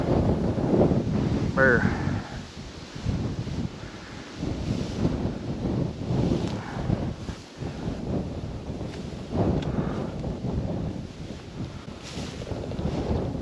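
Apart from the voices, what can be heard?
strong wind outdoors in a field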